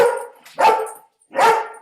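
A dog gives three sharp barks close to the microphone, the first two in quick succession and the third after a short pause, with no talking.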